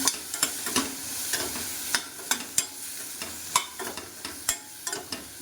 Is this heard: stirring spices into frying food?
yes